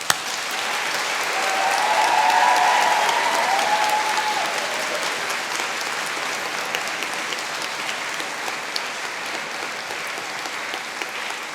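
Graduates at a university humanities and social sciences ceremony give sustained applause to their families and friends, a broad steady wash of clapping that swells in the first few seconds and then holds evenly throughout.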